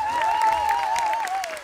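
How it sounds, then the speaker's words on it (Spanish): Studio audience at a televised singing contest bursts into loud applause, tight and continuous, with a sustained musical tone and shouts riding over the clapping. "A ver cómo es el aplauso para Roberto."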